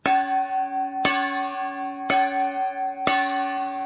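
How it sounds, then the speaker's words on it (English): A bowl struck for crystal sound healing rings out four times at steady one-second intervals; each strike gives a sharp metallic ting followed by clear, sustained overtones that overlap and hum on with no talking. "you'll make a very sharp ting."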